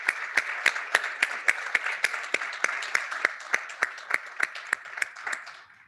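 Applause for a panel at a conference roundtable, heard as a steady run of evenly spaced, fairly close claps, thin rather than a full crowd, lasting several seconds.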